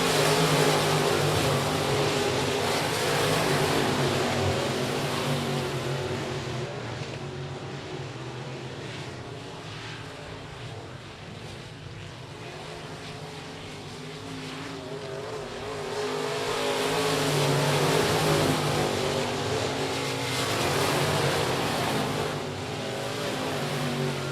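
Race cars lap the oval at I-37 Speedway during a Lonestar 600s race program, a steady roar of engines swelling as the pack passes near, fading briefly in the middle, then rising again.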